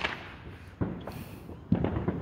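Fourth of July fireworks pop and crackle in a few faint, distant bursts amid low outdoor background noise, the sharpest reports coming near the middle and end.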